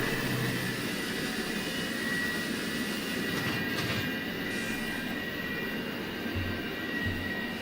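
A Shinkansen bullet train runs along the line in the Trainz railway simulator game, producing a steady, continuous rumble with a faint high whine and occasional brief tonal squeals, heard alone.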